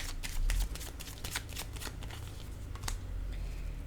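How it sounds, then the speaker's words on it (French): Oracle cards shuffled by hand during a card reading, with a run of quick crisp riffling flicks and soft slaps as cards are laid down, close and fairly quiet, with no talking. "Je vais déposer une carte sur Sage et la forêt."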